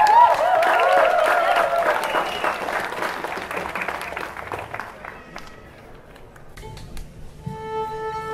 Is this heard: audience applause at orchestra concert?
yes